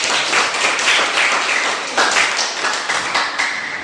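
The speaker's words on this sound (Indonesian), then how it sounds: "Tepuk tangan dulu." A classroom of pupils clapping their hands together, a dense, lively patter of many hands rising and falling in waves across several seconds.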